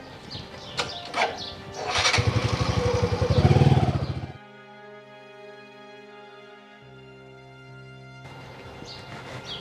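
A motorcycle on a village road revs up loudly for a few seconds, then its engine noise drops away abruptly, leaving a quiet stretch with a faint steady hum.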